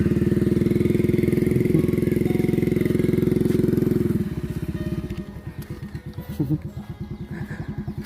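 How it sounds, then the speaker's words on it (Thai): A motorcycle engine puttering steadily and loudly as it rides out of a village in Laos, its pitch dropping midway as the bike shifts and rolls on along the road. "ก็ได้ขี่มอเตอร์ไซค์ออกจากหมู่บ้านเลย"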